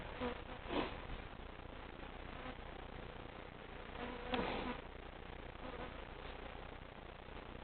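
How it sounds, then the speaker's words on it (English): Buckfast bees buzz steadily at close range inside a hive, a dense continuous drone with a few louder swells as individual bees pass nearby. "There's a lot of bees in here."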